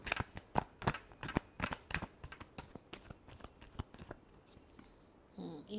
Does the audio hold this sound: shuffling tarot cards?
yes